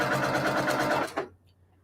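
A sewing machine runs a quick burst of rapid, even stitching on nine-patch quilt block pieces for a snowflake quilt, close and loud, then stops abruptly with a small clunk.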